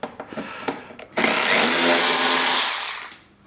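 A power tool whirs loudly for about two seconds as it backs out short T27 screws from the lower fairing of a Harley-Davidson, preceded by a few light clicks and taps, with no voices.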